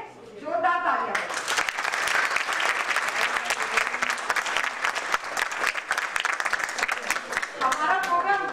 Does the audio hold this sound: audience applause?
yes